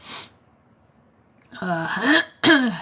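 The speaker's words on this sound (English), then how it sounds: "I'm so tired of coughing and trying to clear my throat." A short breathy sound, a pause, then a person clearing their throat twice in quick succession, harsh and close.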